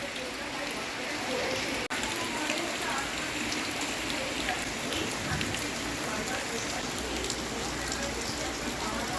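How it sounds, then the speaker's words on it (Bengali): Heavy evening rain pours steadily in a dense, continuous hiss on surfaces outdoors, loud and unbroken apart from one brief sharp click. "ভালোই জোরে বৃষ্টি হচ্ছে"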